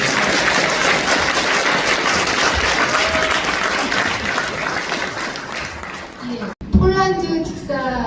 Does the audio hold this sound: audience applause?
yes